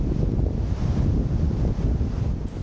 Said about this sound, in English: it's a bit too windy for my liking